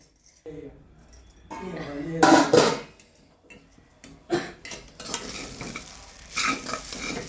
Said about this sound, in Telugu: ఇవి మధ్యలో కలుపుకోవాలి లేకుంటే అడుగంటుకుంటుంది